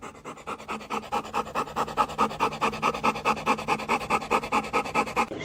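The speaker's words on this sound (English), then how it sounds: "I've never seen a dog this excited for his tennis ball." An excited dog pants rapidly and steadily, close and fairly loud, with quick even breaths continuing throughout and no voices.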